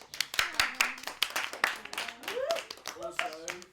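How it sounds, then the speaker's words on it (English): A round of applause for a film crew: a crowd claps in a burst of sharp, close hand claps, with voices and cheers mixed in throughout. "a big round of applause."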